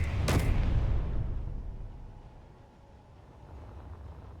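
Weapons fire and a heavy booming blast in the space game Space Engineers, a sharp loud crack near the start followed by a deep rumbling tail that slowly decays and swells again.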